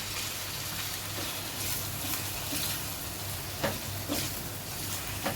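Eggs, chili and coriander powders and chapati strips are stirred together in a steel pan on the gas, a steady close sizzle with a few sharp scraping clinks of the spatula near the end.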